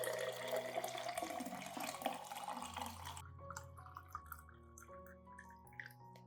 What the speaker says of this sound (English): add 500 milliliters of warm water at room temperature